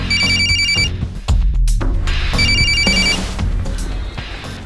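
A telephone rings in a home kitchen setting, a repeated electronic ringtone sounding in two clear bursts separated by a short gap, loud and close with background clatter and no talk.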